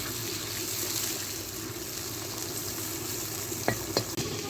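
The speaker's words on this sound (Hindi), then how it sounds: "प्याज के पेस्ट को भी अच्छी तरह से भून लेंगे हम" Onion paste frying in a pan for a masala fish curry, a steady broadband sizzle with a couple of brief stirring clicks near the end, no talk.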